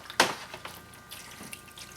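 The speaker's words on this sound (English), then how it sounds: "now we're going to wash it in cold water" A zinc piece being washed in plain cold water: a quick splash at the start followed by faint trickles and light liquid movement, close and quiet.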